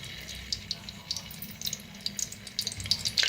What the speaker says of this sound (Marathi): तर छान असं गरम झालेलं आहे. तेल ओतूया